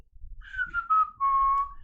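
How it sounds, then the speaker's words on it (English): A person whistles a short tune during a baseball memorabilia case break: a few sliding notes, then one longer sustained note, clear and close with a faint low rumble underneath. "We're going to whistle while we do it."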